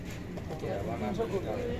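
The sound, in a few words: pigeons cooing at weekly pigeon market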